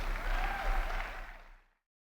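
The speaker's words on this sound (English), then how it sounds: "Future Proof, a round of applause for Bree." Dense audience applause at the Future Proof event after a talk, a steady wash of clapping that swells briefly and then fades out sharply.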